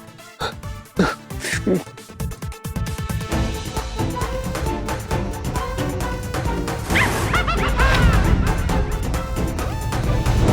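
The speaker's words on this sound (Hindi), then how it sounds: "ये कुत्ते के बच्चे की आवाज तो मम्मी के कमरे के पास से आ रही है" A puppy barks and yelps in short, sharp bursts inside a family home, mostly in the first few seconds before dense background music swells and carries on underneath.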